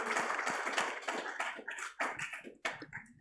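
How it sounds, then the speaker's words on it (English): Applause from a biotech showcase audience, a dense wash of clapping that swells and then thins out into scattered claps toward the end. "Everyone give Jo a massive round of applause."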